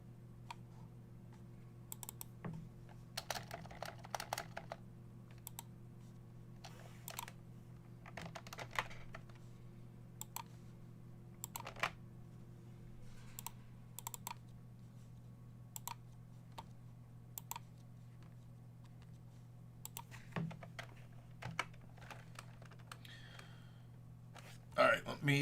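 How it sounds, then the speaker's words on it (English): Computer keyboard typing comes in scattered bursts of quick clicks and taps across a long stretch over a steady low hum, with occasional soft breaths and sighs nearby. "let me start typing"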